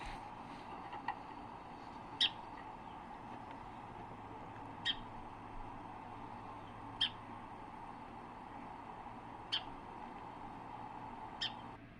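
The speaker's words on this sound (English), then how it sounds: "And this is the song sparrow call." Song sparrow calls outdoors, five sharp, brief chips spaced about two to three seconds apart, fairly faint over a steady background hiss.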